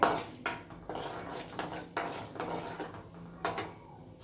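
Urad dal poured into a pan of frying tempering while making carrot palya, with sharp metallic clinks and scrapes of a utensil against the pan recurring every half second or so, no talk.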